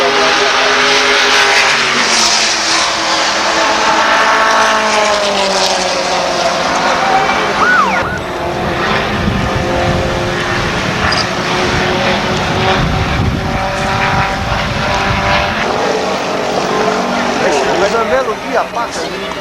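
Race cars roar past at Interlagos circuit in a classic Formula race, loud engines revving and shifting with whining pitch sweeps, while a commentator talks over the racing throughout.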